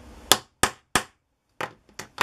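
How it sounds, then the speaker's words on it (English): A small hammer strikes an eyelet hole punch resting on a metal plate, six sharp separate blows with short pauses after the first three, loud and close with no speech. "I take my little hammer and pound it, and this is going to get noisy"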